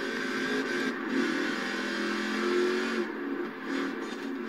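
Car engine revving in the racing game Forza Horizon 4 on a four-wheel-drive car, a steady loud drone with swelling pitch as gears change, alone without talk.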